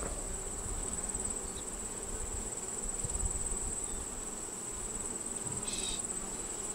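Bees hum steadily throughout an opening of a hive newly expanded from five to ten frames, a dense, continuous drone close by with a faint high whine running on top and no talking.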